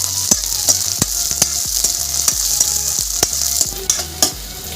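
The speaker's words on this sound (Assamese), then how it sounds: "আদা নহৰুখিনিও দি দিছোঁ এতিয়া লগ কৰি মই ভাজি থাকিম" Ginger and garlic sizzle in hot oil while a spoon stirs them, knocking against the pan in a regular rhythm of sharp taps over continuous frying hiss, near and without speech.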